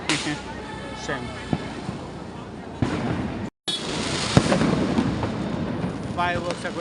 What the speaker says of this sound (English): Fireworks are going up in the building